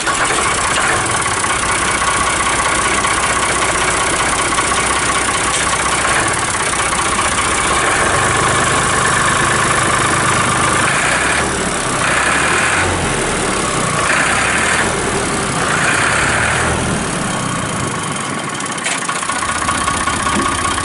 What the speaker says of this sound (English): start the tractor, run around, show you what you're supposed to do